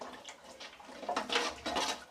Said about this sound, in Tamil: இப்போ தேவையான அளவு தண்ணி ஊற்றியாச்சு